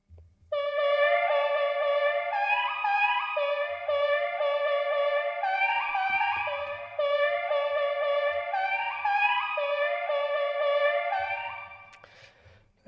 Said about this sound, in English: It's just a sample being triggered a number of times in quick succession with a lot of echo,